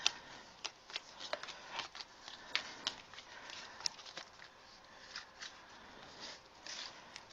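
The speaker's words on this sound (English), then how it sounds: "as I start shuffling." Tarot deck being shuffled by hand, soft irregular riffles and card flicks, close and quiet, with no talk over it.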